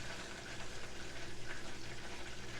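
Butter browning in a pan for chocolate chip cookies, foaming as its water cooks off, gives a steady, close bubbling fry with a soft pulsing hiss that holds an even level throughout.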